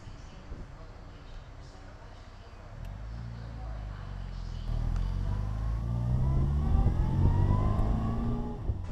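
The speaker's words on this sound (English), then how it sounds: "it's got a nice 1275 engine and sounds great" A restored 1960 Bugeye Sprite with a 1275 engine and wire wheels accelerates on a drive, its engine note rising and building steadily in pitch and loudness, with faint talk early on.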